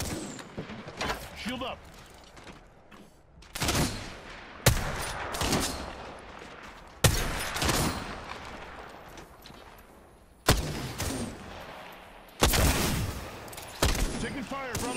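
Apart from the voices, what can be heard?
gunfire hitting the player in the video game Apex Legends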